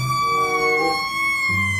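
A toy fire truck plays a tinny electronic siren, a steady high whine with shifting tones, clear and close.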